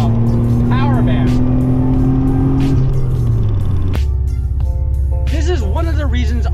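A 1997 Mitsubishi 3000GT VR4 engine pulls hard through the rev range from inside the cabin, its loud droning pitch climbing steadily, dropping at a gear change and rising again, while someone talks over it.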